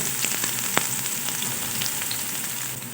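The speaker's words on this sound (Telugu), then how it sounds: "ఈ ఆయిల్ కొద్దిగా వేడి అయిన తర్వాత కట్ చేసుకున్న ఆనియన్స్ అయితే ఇందులో వేసుకోవాలి" Chopped onions frying in hot oil in a pan, a dense steady sizzle with crackling pops and one sharp spatter, close and continuous with no talking.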